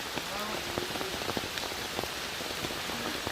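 Steady rain patters on a surface, with scattered drops ticking close by throughout; a faint voice surfaces briefly in the background.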